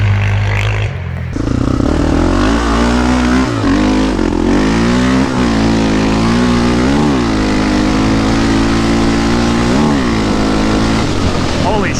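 Quad engines from a Yamaha Raptor 686 and a Predator 560 rev loud and close, their pitch climbing and dropping repeatedly in a sustained, throaty roar that fills the whole stretch.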